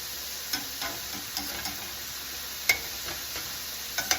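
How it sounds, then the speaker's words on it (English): Chicken and colorful vegetables stir-frying in a pan with cashews, a continuous close sizzle broken by a few light ticks and utensil knocks, with no voices. "It's going to be a good looking stir fry."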